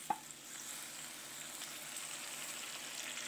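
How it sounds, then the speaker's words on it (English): Crushed tomatoes drop into a pan of frying onions, giving one soft plop followed by a steady, fairly quiet sizzle that holds on without talk. "We are going to add in now our tomatoes."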